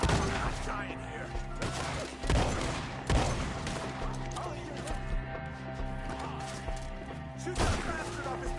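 Gunfire from a Red Dead Redemption 2 shootout in the trees, a few sharp shots spread out over a busy, loud mix with voices talking and shouting throughout.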